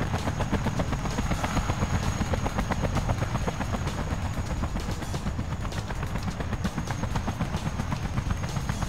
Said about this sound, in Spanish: Otro helicóptero más.